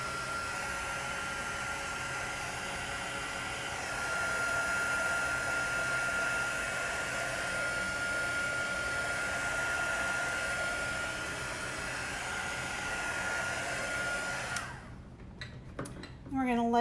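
A hair dryer blows steadily up close to dry Chalk Couture craft pieces, a constant whooshing hiss with a faint steady whine that holds for about fifteen seconds before cutting off; a voice follows at the end.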